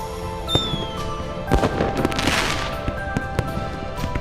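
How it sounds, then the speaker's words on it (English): Fireworks explode over a river at night: a whistling rise, then repeated sharp pops and crackling bursts at an irregular rhythm, moderately loud and somewhat distant, with a soft crackle lingering between blasts. "Sparks rise into the night sky and explode with a soft crackling."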